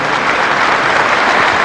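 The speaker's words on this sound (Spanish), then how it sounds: "Un aplauso al Señor" Dense, loud applause from a church congregation fills the moment, a continuous wash of clapping with no pauses.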